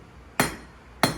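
A blacksmith's hammer strikes steel twice, each blow a sharp, bright ringing clang that decays quickly, about two-thirds of a second apart and close by.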